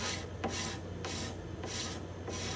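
Close, rhythmic scraping of glue off the bindings and purfling on a spruce guitar top, with repeated rasping strokes about every half second over a low steady hum.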